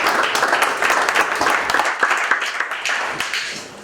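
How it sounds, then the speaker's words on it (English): Audience at a weekly startup meetup applauds for a guest speaker, full clapping with individual claps standing out, holding strong and then tapering slightly toward the end. "Let's give him a round of applause."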